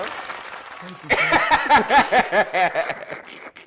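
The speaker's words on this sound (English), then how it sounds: "Ladies and gentlemen, make some noise for my good brother, Jatty Robinson." A comedy show crowd claps and cheers for a comedian, the applause building after a quiet start and continuing loud and steady with some whoops.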